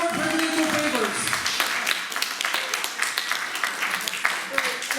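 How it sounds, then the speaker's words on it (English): An audience applauds the panelists at an alumni panel, with a dense wash of clapping hands that runs throughout and then thins out, mixed with voices and crowd chatter. "Can we give our panelists a round of applause for being here?"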